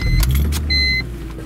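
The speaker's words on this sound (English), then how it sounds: "And you can hear that big M54 come to life." A 2004 BMW 330Ci convertible with the M54 inline-six and ZHP package cranks and fires up, a short, loud burst of starter whir and engine catch heard close by, settling into idle within about a second.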